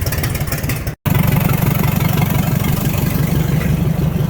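A large farm tractor engine runs loud and steady with a rough low throb, cutting out briefly for a moment before firing back up and holding a strong idle for several seconds.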